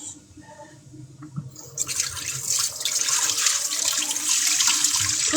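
Water running while clothes are rinsed, first faint with a few drips and splashes, then a tap gushing into a sink that grows loud and steady, up close.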